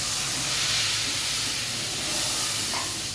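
Water poured into a pan of frying fish for curry sets off a loud, dense, continuous hiss and sizzle of steam, close up with no speech.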